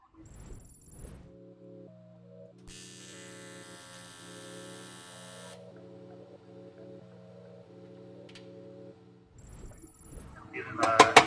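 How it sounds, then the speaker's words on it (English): AC TIG welding on aluminium catch cans for an EVO 7 gives a steady electric buzz and hum through a curved weld, with a brief harsher stretch partway, a short pause, then brief clicks and handling noise at the end. "we'll just push this panel back in with a new tack, and then continue on this curved weld"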